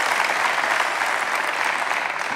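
Studio audience applause for guests on a Tunisian TV talk show, a dense, steady burst of many hands clapping at close range, loud and continuous without pause.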